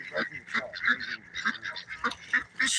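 Geese honk repeatedly in a busy, overlapping flock, loud and close, with rapid nasal calls filling the whole stretch.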